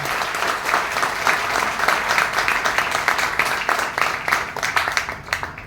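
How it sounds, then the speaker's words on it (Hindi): An audience at a farmers' meet in Ayodhya applauds the farmers: dense, loud sustained clapping from many hands, steady throughout and tapering slightly at the end. "हमारे देश के किसानों के लिए एक बार जोरदार तालियां दें"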